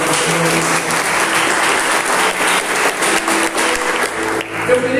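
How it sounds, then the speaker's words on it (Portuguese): A church congregation claps together after a scripture reading, sustained hearty applause filling the room for about five seconds, loud and steady with a faint hum beneath. "Dá uma salva de palmas para a palavra do Senhor"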